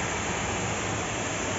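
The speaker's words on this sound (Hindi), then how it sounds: "और ये झरना चल रहा है यहाँ से।" Steady roaring rush of Pandav Falls near Panna pouring down during heavy rain, a dense broadband wash of water with no voices.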